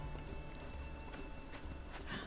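Horse hooves clip-clop in a steady walking rhythm in the Ranch of Rivershine game, set in the Rocky Mountain Wilds, fairly faint and heard alone.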